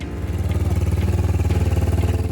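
A tuned Yamaha TW200 motorcycle idles steadily up close, its single-cylinder engine thumping in a fast, even rhythm that stays loud throughout with no talk over it.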